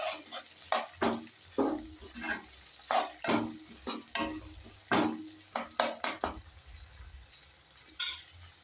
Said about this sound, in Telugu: ఆనియన్స్, పచ్చిమిర్చి బాగా ఫ్రై అవ్వాలి.